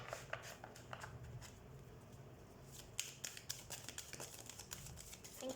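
Oracle cards are shuffled close to the microphone, giving faint, quick papery flicks and riffles in uneven bursts over a quiet background.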